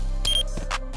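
A planted bomb beeping in the game CrossFire: a few short electronic beeps in quick succession over low steady background hum.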